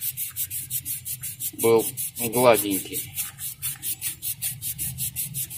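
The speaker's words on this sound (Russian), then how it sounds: "И вот так вот шоркаем наждачкой, чтобы патрубок" Sandpaper scrubbing a Toyota RAV4 radiator hose by hand in steady, rhythmic back-and-forth strokes, close and fairly loud, with a few short spoken words partway through.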